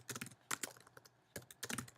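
Keystrokes on a computer keyboard come in quick bursts, two clusters of rapid tapping separated by a short pause, close and fairly quiet with no voices.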